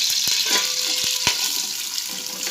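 Onion fries in ghee with a steady bright sizzle, close and fairly loud, punctuated by a few sharp clicks and knocks from a spoon or pan.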